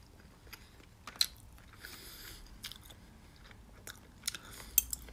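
Food chewed close to the mic during a mukbang, soft irregular bites and mouth sounds with a few sharper crunchy clicks, quiet and with no talking.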